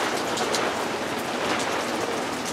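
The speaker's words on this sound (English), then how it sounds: "I think it's raining a little bit." Rain falling steadily by a back step outdoors, a continuous dense hiss of drops spattering on surfaces, fairly close and even throughout, with no talking.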